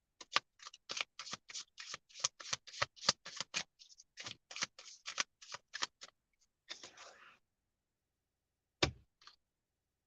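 Tarot cards are shuffled close up in quick bursts of crisp riffling clicks and flutters over several seconds, then a pause and one last sharp tap.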